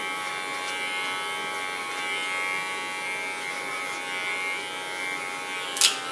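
Electric hair clippers buzz in a steady, close hum while cutting hair for a pixie cut, with one brief sharper burst near the end.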